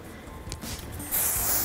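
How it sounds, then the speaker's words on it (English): A light burst of hairspray is misted over styled, set hair, a soft hiss rising at the end after a quiet stretch. "what I'm just going to do is just put a light spray over it"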